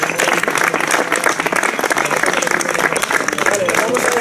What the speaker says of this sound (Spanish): por favor, un aplauso para los dos